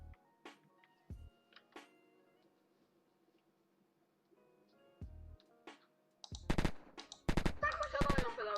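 Gunfire from the survival game Unturned during a PvP raid: sparse clicks and taps early on, then a burst of loud, rapid shots near the end.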